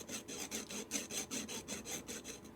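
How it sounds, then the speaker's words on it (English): Strip of 220 grit sandpaper rubbing inside a sewing machine part, a steady rhythmic rasp of about a dozen back-and-forth strokes, close and fairly quiet, with no talking. "I like to get the sandpaper inside there."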